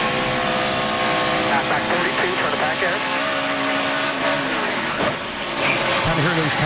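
NASCAR Cup Series stock cars roar at a 2016 race, a loud continuous engine howl with shifting pitch and rough tire noise as the cars lose grip, under commentary.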